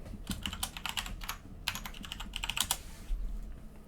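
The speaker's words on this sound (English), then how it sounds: "Type in my password." Keys tapped on a computer keyboard to enter a password, delivered as two quick bursts of close, crisp clicking separated by a short pause, with no talking.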